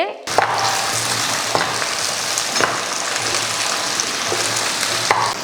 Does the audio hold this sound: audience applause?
no